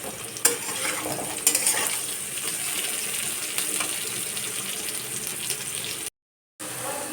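Taro leaves (kochu shak) with small chopped shrimp frying in a pan, a steady loud sizzle with occasional stirring knocks, broken by a short silent gap near the end.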